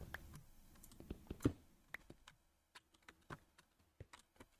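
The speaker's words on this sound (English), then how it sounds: "I'm having to do some jumps here, so hopefully my keyboard isn't too loud" A computer keyboard clicks during Minecraft play, a scattered series of soft, close, sharp taps and presses, some in quick bursts, with a faint hum underneath and no talking.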